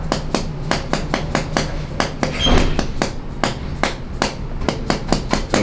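A chiropractic hammer tool taps rapidly and steadily on a patient during a spinal decompression session, dozens of sharp, loud, close strikes in an even rhythm, with no talking.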